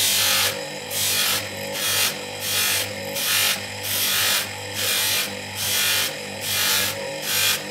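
A copper and brass ring is hand-polished with polishing compound in steady, repeated rubbing strokes, a rhythmic swish about twice per second, close and fairly loud with no talking.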